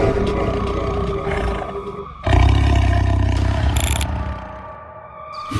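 A black tiger roars loudly in a movie, a long deep sustained roar that surges after a brief dip, set against a dense dramatic soundtrack.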